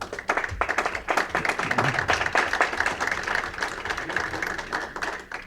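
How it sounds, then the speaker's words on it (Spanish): Audience at a book presentation for author Arnoldo Kraus at FIL Guadalajara 2019 breaks into sustained applause, a dense steady patter of many hands clapping at even loudness for several seconds. "les pido un aplauso para él."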